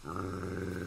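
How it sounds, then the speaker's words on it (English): Dogs growl continuously in the video game Fragile Dreams, a steady, loud, rumbling snarl that holds without a break for under a second. "More dogs?"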